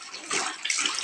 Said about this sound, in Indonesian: pertama-tama kita larutkan dulu air, maksudnya tuangkan dulu air